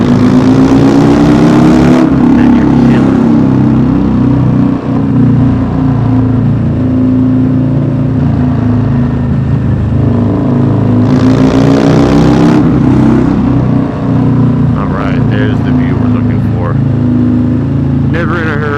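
Motorcycle engine droning steadily while riding in traffic past cars, with loud wind buffeting and a voice talking over it throughout.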